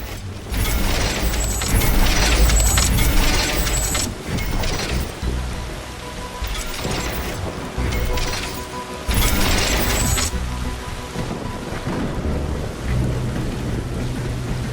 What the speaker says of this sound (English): The storm is getting really intense.